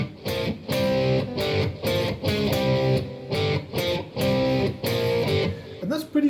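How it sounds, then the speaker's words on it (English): Electric guitar with overdrive plays a chorus riff, loud and close, in repeated chopped power-chord bursts separated by short gaps. "if you put the whole chorus together now with a bit of overdrive"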